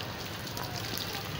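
Steady rain pouring down at a temple, a dense continuous hiss of falling water heard close and unbroken throughout.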